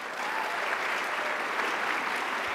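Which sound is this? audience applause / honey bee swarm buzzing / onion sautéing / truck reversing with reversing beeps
audience applause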